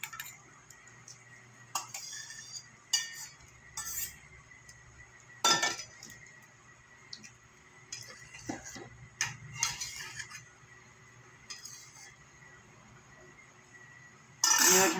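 Fried ivy gourd is added to simmering mustard gravy, a series of clinks and scrapes of a spoon against the pan at an uneven pace, close and moderately quiet.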